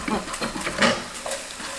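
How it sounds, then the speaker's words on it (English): Close, steady sizzling of black bean sauce frying in oil in a pan, with faint scraping from stirring and no talking. "Frying the sauce."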